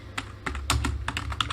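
Quick bursts of keystrokes on a computer keyboard, a short uneven run of close, crisp clicks with small pauses between them and no talk.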